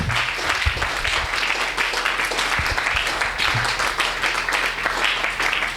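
A church congregation applauds in praise, a dense, steady wash of clapping filling the room from start to finish, with low murmurs and a few louder thumps underneath.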